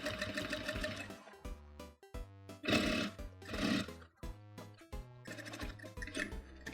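A sewing machine stitches a denim jeans hem in short bursts of rapid mechanical whirring, starting and stopping several times with brief pauses between runs, close and clear.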